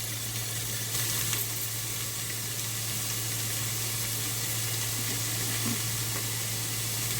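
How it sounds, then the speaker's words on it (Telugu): Ivy gourd fries on a low flame under a lid, producing a faint, even hiss that holds steady throughout over a constant low hum. "నేను మూత పెడతాను. దొండకాయలు మగ్గాలి కదా, సిమ్లో పెడుతున్నాను."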